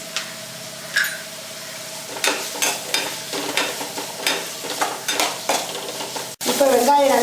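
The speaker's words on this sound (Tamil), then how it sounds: "இப்போ வெங்காயம் நல்லா வதங்கிடுச்சு" Onions with a little turmeric sautéing in a pan for potato poriyal, a soft constant sizzle broken by repeated rhythmic scrapes of a spoon stirring, ending with a louder clatter.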